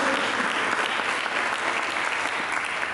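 Applause from a church congregation fills the space, a steady, dense clapping that holds at even strength throughout with no voices over it.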